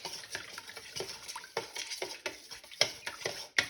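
Sourdough leaven being stirred into water, a run of quick scraping and clinking strokes with sharper knocks toward the end, close and fairly quiet with no talking.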